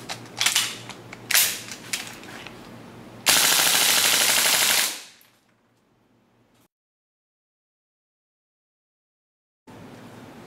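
A WE AK74 gas blowback airsoft rifle fires 0.2 g BBs on green gas: two short, snappy bursts ring out close, then a longer, loud, sustained full-auto burst, followed by silence and a faint sound at the end.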